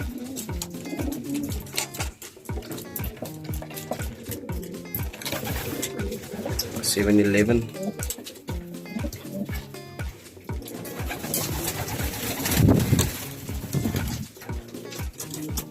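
Racing pigeons in a loft coo steadily and densely throughout, a close, continuous layered murmur of many birds, with a voice briefly heard over it.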